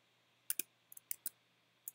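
A few quiet, sharp clicks of keys being typed on a computer keyboard, in small irregular bursts against a near-silent background.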